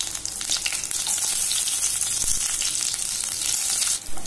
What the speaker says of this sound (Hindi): इसमें दो हरी मिर्च मैंने कट किया था वो डाल दूंगी।